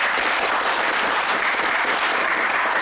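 Sustained, dense applause from a concert audience greeting Severodvinsk bards at a village event, loud and steady for the whole stretch with no voices over it.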